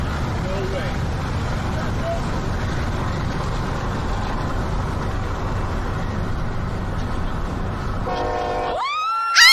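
A train rolls past in Final Fantasy XIV with a steady, dense rumble that stays loud and continuous, then cuts off abruptly near the end as a short horn-like tone sounds.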